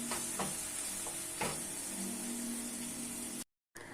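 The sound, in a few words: stirring yogurt in a cooking pot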